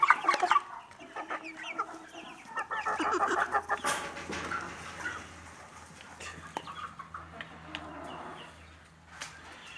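Several chickens cluck and murmur close by as they eat their feed, with busy, overlapping calls that are loudest early on and then thin out, over a faint low hum in the background.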